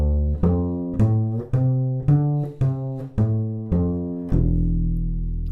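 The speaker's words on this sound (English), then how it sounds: "we're staying in the lower register of the bass" Bass plays a walking arpeggio low in its register, steady plucked notes about one per second, each ringing until the next, close and alone with no talking.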